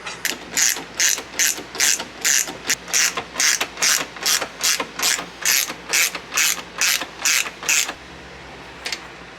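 A ratchet clicks loudly and close in a steady run of strokes while coilover suspension is bolted onto a Honda Acty van, then stops abruptly after about eight seconds.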